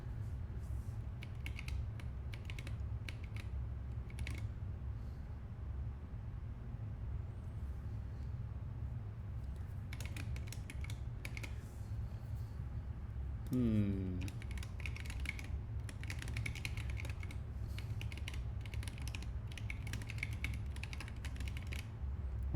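Quiet, close typing on a computer keyboard sounds in bursts of rapid clicks with pauses. A creak and a low background hum sit underneath.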